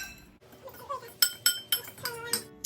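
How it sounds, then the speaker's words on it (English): A utensil stirs garlic powder and cayenne pepper together in a dish, giving a series of sharp, close clinks and taps against the bowl in an uneven quick rhythm. "We're just gonna mix that up really quick."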